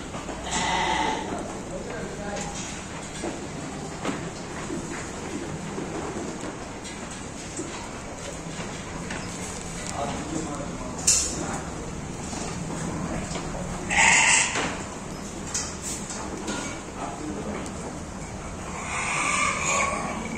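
Goats bleating on a goat farm, with repeated loud bleats and calls from several animals, some near and some farther off, under steady talk from a man.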